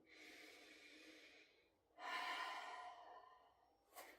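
Steady audible breaths during a Pilates exercise: a long exhale, a brief pause, then a stronger, fuller breath and a short sharp intake at the end, close and unaccompanied by talk.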